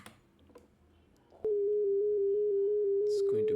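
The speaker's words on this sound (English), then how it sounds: "What if we have a square wave oscillator instead of a sine wave?" A steady synthesizer tone switches on abruptly and holds loud and even for about two seconds, modulated by a square-wave LFO, with faint clicks beforehand and no speech.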